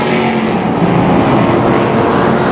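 Pro stock race cars race at Tucson Speedway, their engines blending into a continuous, loud, close roar that stays steady with no talking.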